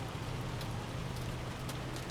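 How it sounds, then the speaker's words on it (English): Heavy rain, with hail mentioned, in the Farming Simulator 25 video game, heard as a steady, dense hiss of falling water with a low rumble underneath, continuous and fairly loud with no voices. "Ooh, that is some bad rain."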